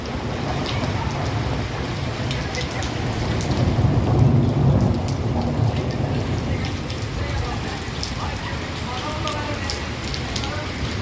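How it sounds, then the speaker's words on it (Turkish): Heavy summer rain pours steadily in a dense roar, with a low rumble swelling in the middle like distant thunder. "Gördüğünüz üzere tam yaz yağmuru"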